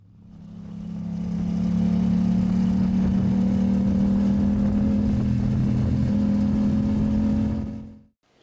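A Voge 300 Rally motorcycle engine holds a steady droning hum with a low tone that swells in over the first two seconds, stays even and close, then cuts off sharply near the end.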